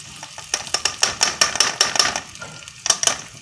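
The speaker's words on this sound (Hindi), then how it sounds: "हमने प्याज डाल दिए। अब तो हम इसकी भुनाई करेंगे।" Onions fry in oil in a pan while being stirred, a close sizzle under rhythmic metallic scraping and tapping of a spoon against the pan, no talking.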